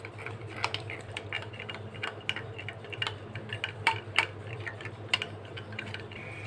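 Rapid, irregular light clinks of a spoon stirring gelatin into half a cup of hot water, repeating steadily over a low background hum.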